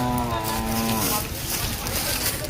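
A pregnant Jafrabadi-type buffalo at the Erragadda buffalo market in Telangana gives a single close, loud, drawn-out moo, followed by the noisy chatter and bustle of the market crowd.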